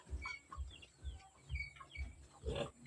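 Five hens cluck nearby in a steady series of low, throaty pulses, about two per second, with a few higher squawks.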